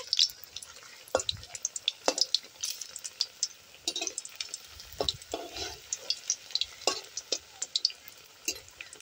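Oil sizzles and crackles steadily as prawn fritters fry, with scattered louder pops and clinks of a utensil turning them, no talking.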